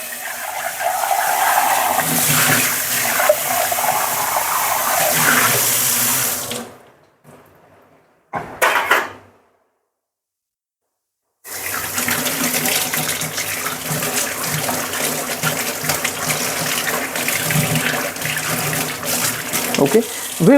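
Tap water runs steadily into a kitchen sink while hands and a grinder jar are rinsed during spinach soup preparation, a loud continuous gush that cuts out briefly midway, then resumes at full strength.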